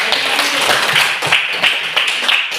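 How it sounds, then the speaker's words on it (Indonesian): Students in a classroom give a round of applause, a dense continuous patter of many hands clapping at moderate volume, lasting a few seconds without a break. "sekali lagi kita berikan aplaus untuk kalian semua"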